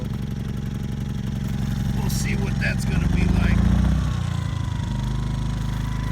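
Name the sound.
Ryobi portable generator engine idling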